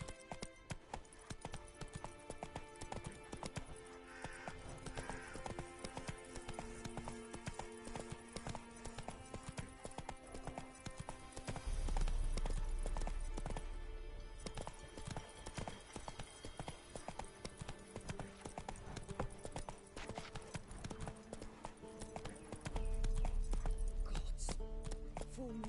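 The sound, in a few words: horse galloping in the video game Witcher 3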